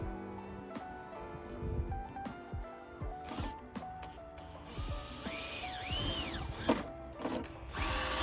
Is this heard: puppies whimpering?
no